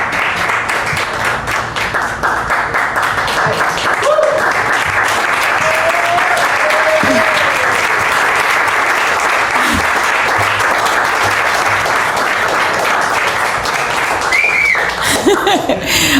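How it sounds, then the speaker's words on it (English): An audience applauds a woman named Peggy at a June 2015 talk, with steady, dense clapping filling the room for over fifteen seconds, light laughter mixed in and brief voices rising near the end. "would you like to get up for a moment and just let everybody applaud you right there"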